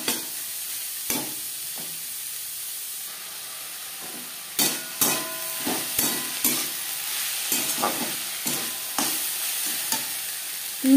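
Chopped onions frying in a pan make a soft background sizzle punctuated by repeated clacking stirs with a spatula, irregular and close.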